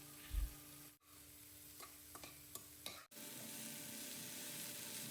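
Vegetables for fried rice are stir-fried with salt in a pan, giving a soft, faint sizzle with a few light scrapes and clicks. Two brief dropouts cut the sound, and no voices are heard.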